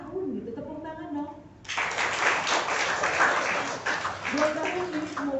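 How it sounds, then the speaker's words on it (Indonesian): Guests at a café and eatery grand opening in Depok break into applause after a spoken line, a dense burst of clapping that stays strong for several seconds, then fades as talk resumes. "Tepuk tangan dong."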